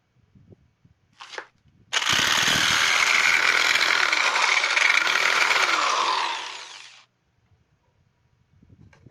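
A Piranha scroll saw cuts through metal in a single continuous buzzing, grinding run of about four seconds. It starts abruptly and dies away, with a brief short noise just before it and quiet on either side.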